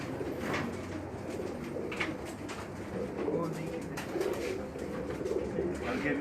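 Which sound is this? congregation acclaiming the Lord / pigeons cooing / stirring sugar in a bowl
pigeons cooing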